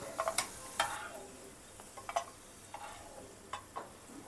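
Garlic cloves fry in hot oil for garlic bread, with a faint, soft sizzle broken by sparse clicks and light taps of a utensil against the pan.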